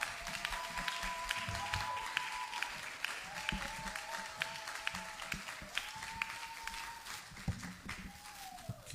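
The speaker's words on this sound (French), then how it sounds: "l'église, nous l'accueillons avec des acclamations au nom de Jésus" A church congregation applauds together to welcome a speaker, steady massed clapping filling the room throughout, with a few sharper claps and a sustained tone ringing over it.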